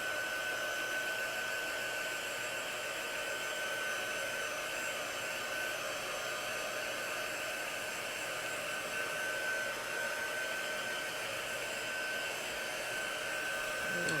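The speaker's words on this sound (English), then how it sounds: "So give him a little blow dry here" A hair dryer blows steadily on a Chalk Couture craft piece to dry it, a continuous close whooshing hum with a faint high whine, unbroken and without talk throughout.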